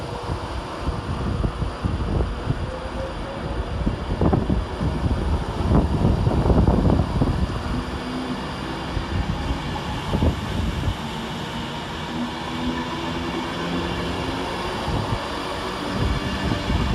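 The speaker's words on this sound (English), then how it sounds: "Next up for departure is 390-010 with the 1447 Avanti West Coast service from London Euston to Edinburgh" An Avanti West Coast Class 390 Pendolino pulls out of Stafford station on a service from London Euston to Edinburgh Waverley, giving a steady, loud rolling rumble with rising and falling rail noise and some wind buffeting across the whole stretch.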